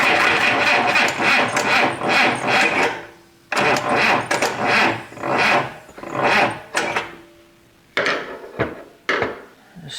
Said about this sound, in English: we're beating up on this poor 100-year-old solenoid and starter